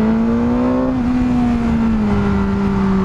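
2022 BMW S 1000 R motorcycle accelerating hard, engine note rising in pitch as it pulls through a gear, loud and close with wind noise.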